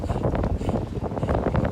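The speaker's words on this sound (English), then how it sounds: "it's a little windy" Wind blowing hard in the Sierra Nevada, a dense close roar buffeting the microphone in uneven gusts, loud and unbroken across the short stretch.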